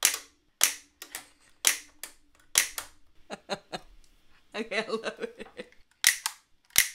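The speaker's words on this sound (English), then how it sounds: "I wonder if it'll continuously like clap, clap, clap, clap, clap, or is it gonna do like one clap" A cheap dollar-store plastic clapping-hands toy snaps out repeated sharp clacks in bursts, some in quick rattling runs, close and loud, with a brief spoken word or two in between.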